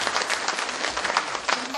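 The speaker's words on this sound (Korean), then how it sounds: "박수 한번 칩시다" A crowd of public officials at a happiness lecture in Buyeo claps in a brief, dense burst of applause that holds steady and close throughout.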